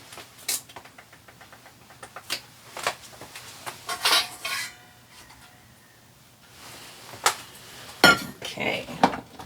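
Dishes and a bowl clink and clatter in a home kitchen, quiet scattered knocks and taps coming in bursts, with soft talk in the background.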